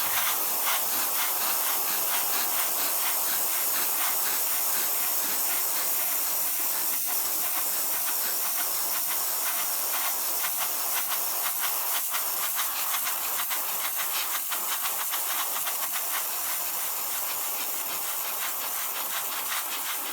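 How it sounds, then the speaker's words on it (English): An airbrush sprays Vallejo black paint onto a collector's bust with a steady, continuous airy hiss. The hiss runs unbroken and fairly close for the whole stretch. "I'm just going to build it up slowly with an airbrush"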